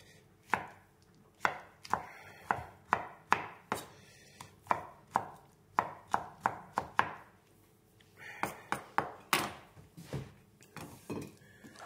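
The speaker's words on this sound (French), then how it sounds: "je coupe des gros morceaux, grossièrement" Peeled tomatoes being roughly cut into big chunks, the knife striking a cutting board in a loose series of sharp, close thuds, with a short pause midway before the chopping resumes.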